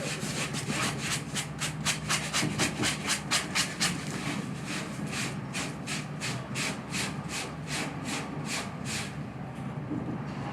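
A foam battle axe being sanded by hand with sandpaper, rhythmic back-and-forth rasping strokes, quick at first then slower and steady, close and moderately loud with no talking.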